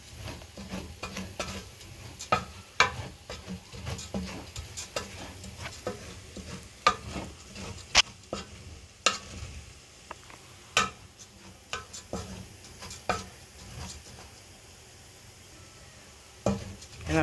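Rice, three cups, stirred and fried in hot oil in a pot: soft scraping stirs and clicks of a utensil against the pot over a low, steady sizzle, moderately close, with no talking.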